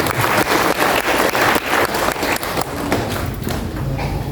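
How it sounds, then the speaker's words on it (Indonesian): An audience claps through a seminar hall at an Islamic boarding school leaders' gathering, a dense, steady applause that fades slightly toward the end. "Tepuk tangan untuk Bapak"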